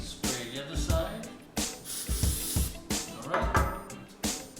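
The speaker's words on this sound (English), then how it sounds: "What I like to do is, again, spray the other side." Short bursts of activator spray hit a glued cornice trim joint, a quick series of hissing puffs in a loose, repeated rhythm, close but fairly quiet.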